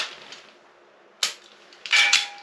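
Indoor shooting drill with a sharp single gunshot crack near the middle, followed by a second louder burst of impact and clatter, close and loud against a quiet room.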